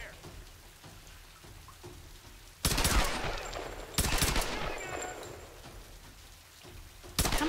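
Rapid bursts of automatic gunfire in Tomb Raider 2013 during an escape from a burning palace, loud rattling volleys starting near three seconds, again at four and at the end, over quieter ambient crackle.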